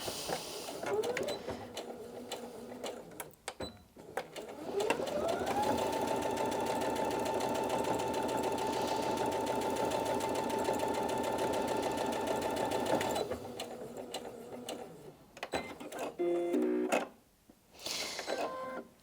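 Brother Innov-is NV2700 sewing machine running a steady, continuous stitch through fabric for about eight seconds, loud and close, with brief handling clicks before and after and a short stop-start burst near the end.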